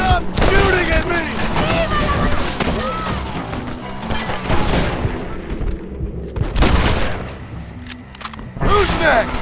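Gunfire and crashing impacts in the Red Dead Redemption game during an army battle, dense and continuous across the clip, with shouting voices mixed in among the shots.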